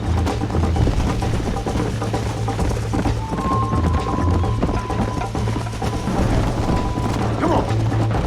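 Horse hooves pound at a steady gallop in the Red Dead Redemption video game, loud and continuous throughout, with rhythmic clip-clop and tack jingling while someone shouts briefly over it.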